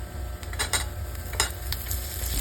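Salted egg sizzles steadily in a hot pan for sisig while a utensil stirs it, giving repeated scraping and clinking strokes over the continuous frying hiss. No one speaks.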